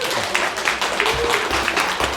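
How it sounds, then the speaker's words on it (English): An audience at a tech conference panel discussion on AI claps steadily, the dense applause holding evenly with only faint voices mixed in. "Can I have a big round of applause?"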